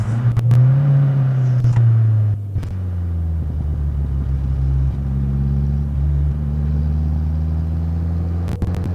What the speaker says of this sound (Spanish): Tiene bastante efecto turbo el coche